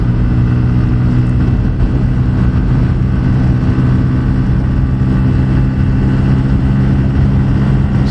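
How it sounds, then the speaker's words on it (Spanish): A Pulsar N160 Fi ABS motorcycle at full throttle gives a loud, steady engine drone with a constant rush of wind noise throughout, and no talking. "Estoy acelerando a fondo"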